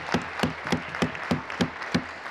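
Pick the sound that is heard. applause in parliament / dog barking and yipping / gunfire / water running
applause in parliament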